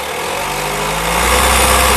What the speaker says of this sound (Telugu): కారు ఇంజన్ యొక్క నాయిస్ చాలా సైలెంట్గా అయితే ఉందండి